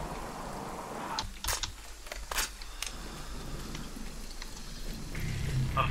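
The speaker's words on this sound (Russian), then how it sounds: "Идет дождь." Steady rain falls in Sniper Ghost Warrior 3, an even wash of hiss throughout, broken by a few sharp clicks and crackles near the start.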